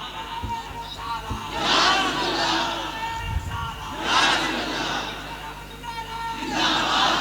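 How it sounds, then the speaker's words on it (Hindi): A large religious gathering at a Muslim sermon shouts the Takbir slogan in unison, three loud swelling crowd responses rising and fading in a call-and-response rhythm, with shouting voices filling the space between bursts. "नारे तकबीर।"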